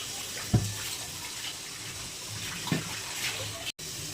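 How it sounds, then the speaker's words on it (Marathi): Whey from milk poured out of a pot while making homemade ghee, a soft steady trickle and splash close by, with a couple of brief knocks. "हे पाणी आपण ओतून देणार आहे दुधाचं पाणी"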